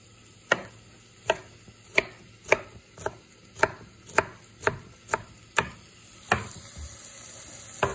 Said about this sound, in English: And then we'll cut this into strips because I want this diced.